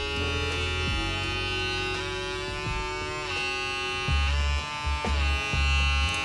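A WMARK NG-series vector motor trimmer runs with a close, steady electric buzz whose pitch dips and recovers several times as the load changes, with no talking.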